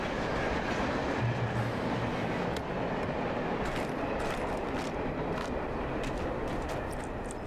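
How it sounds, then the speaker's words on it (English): A train passes in the video game Alan Wake, its steady rumbling roll and faint clickety-clack of wheels filling the scene at an even, moderate level without voices. "There's a train?"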